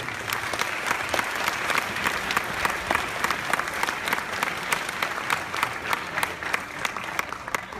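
A room full of people applauds at a congressional community conversation in Palms, a continuous even wash of many hands clapping, moderately loud, with no clear speech over it.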